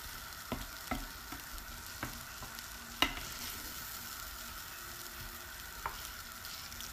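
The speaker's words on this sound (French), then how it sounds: "lorsque notre poivron et notre oignon ont bien réduit, je viens rajouter ma tomate. Voilà, je mélange." Tomato, bell pepper and onion stirred as they fry in a pan for a kefta and egg tajine, a soft continuous sizzle broken by a handful of spoon clicks and scrapes, quiet and close.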